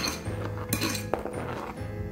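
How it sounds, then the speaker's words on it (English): A spoon scrapes diced onion, jalapeño and tomato into a bowl, making a few light clinks and scrapes against the dish at moderate volume with no voices. "If you need a spoon, just scrape it in."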